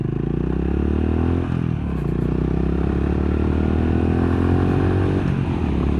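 Honda GB350S single-cylinder motorcycle ridden briskly uphill on a scenic road, a loud steady engine drone close to the rider with pitch rising and falling through gear changes and brief dips in throttle.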